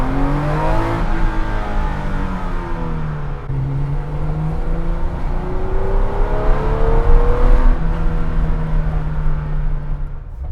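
A Porsche Baja 911, a trophy-truck-style off-road 911, drives with its engine set to a quiet mode, a steady droning hum that rises and falls gently with throttle, continuous and fairly loud inside the cabin, no talk.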